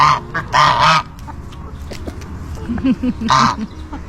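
Geese honk loudly on a hot-weather homestead near ducks and chickens, with two strong bursts of honking separated by quieter clucking, splashing and bird chatter close by.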